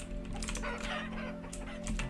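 Chickens in the survival game Vintage Story cluck in short, scattered bursts at moderate volume over a steady low ambient hum, with no talk.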